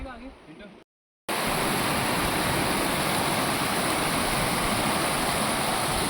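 A waterfall of icy glacial water on the Shrikhand Mahadev mountain trail roars as a loud, steady rush of white noise. It follows a brief moment of talk and then a short silence.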